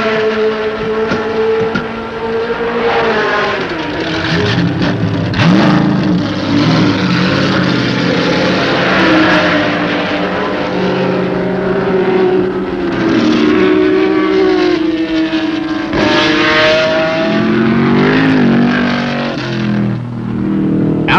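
A Lola race car with a broken rear suspension, driven by Mark Donohue, runs loudly on the track. Its engine drones steadily and shifts pitch as it rises and falls with throttle throughout.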